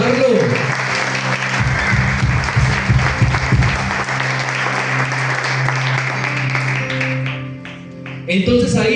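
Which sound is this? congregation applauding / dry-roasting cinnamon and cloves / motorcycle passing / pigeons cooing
congregation applauding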